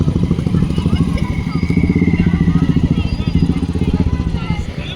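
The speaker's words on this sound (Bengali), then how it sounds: "ওই দেখো চেরি কালার বুলেট, ক্লাসিক না ওই তো।" Cherry-red Royal Enfield Bullet Classic motorcycle near a river ghat, its single-cylinder engine thumping in a loud, rapid, steady beat close by for the whole stretch, with faint higher-pitched noise above.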